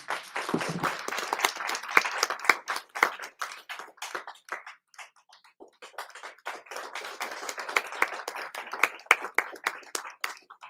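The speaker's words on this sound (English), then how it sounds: "A big round of applause, everyone," A small audience at a session in Boston claps steadily, irregular hand claps continuing for several seconds, thinning briefly in the middle before picking up again.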